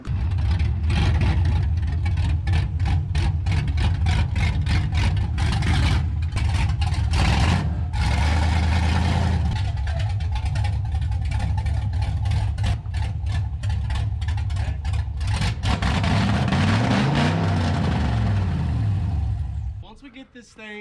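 A truck with a cammed 5.3 engine, built for burnouts, is driven up onto a trailer. Its engine runs loud and near throughout, with a lumpy idle and revving. The sound cuts off abruptly near the end.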